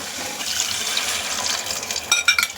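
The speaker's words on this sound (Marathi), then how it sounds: "आता आपण ह्यामध्ये पाणी ॲड करणार आहोत" Water splashes and gushes steadily into a cooking pot, with a few brighter splashy bursts near the end; no voices.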